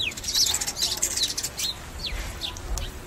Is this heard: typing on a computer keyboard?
no